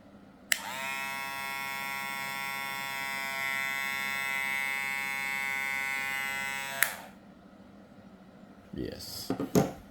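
A VGR V677 electric hair clipper switches on and runs at a steady, loud buzz for about six seconds, then cuts off, followed by a few brief handling clatters.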